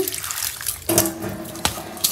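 Water runs steadily from a tap into a sink, with splashing surges as mutton head and leg pieces are rinsed under the stream; close and fairly loud.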